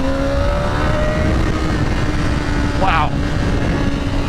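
A 2025 BMW S1000RR with ShiftCam pulls hard through the gears, its engine a loud, continuous roar under heavy wind rush with a pitch change at a shift, and a brief exclaiming voice.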